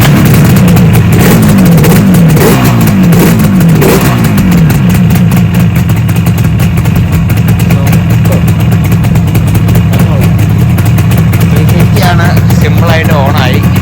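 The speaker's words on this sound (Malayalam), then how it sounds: "350 ഒറ്റയടിക്ക് തന്നെ കറക്റ്റായിട്ട് ഓണായിട്ടുണ്ട്." A 1973 Yamaha RD 350 two-stroke motorcycle running loud and close, its engine droning steadily with a few rising revs early on, while a person talks over it.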